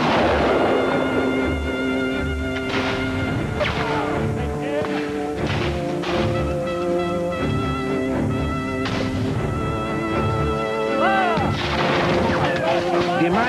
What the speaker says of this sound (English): There was a sharp, close-range firefight, which fell perhaps half the front rank Redcoats.